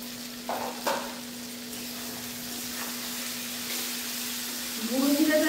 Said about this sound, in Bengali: গুঁড়ো জিরাটা দিয়ে খানিকক্ষণ নাড়াচাড়া করে নেওয়ার পরে